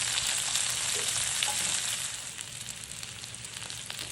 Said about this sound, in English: Potatoes are continuing to cook.